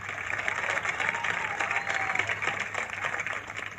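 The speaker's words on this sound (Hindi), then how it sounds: "जोरदार ताली हो जाए इनके जिगरा के।" A studio audience at a business game show claps in a dense, steady burst of applause lasting a few seconds, fairly loud and close, with faint voices mixed in.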